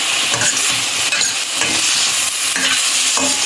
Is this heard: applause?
no